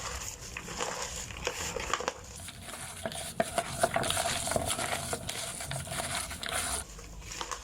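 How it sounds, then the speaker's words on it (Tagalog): Vegetable leaves and sugar mixed by hand for fermented plant juice, giving a steady close rustling, crunching and squishing with occasional soft knocks against the container, no one speaking. "So pwede natin siyang haluin na sa pamagitan ng kamay."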